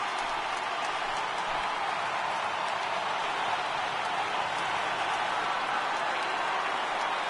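Baseball stadium crowd rising and cheering on a full 3-2 count, a steady, loud, broad roar of many voices that holds throughout with no single voice standing out.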